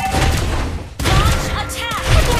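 A sniper gunshot from the Mobile Legends video game cracks with a sharp burst partway through, set among other game effects and thumps, with a voice heard in the mix.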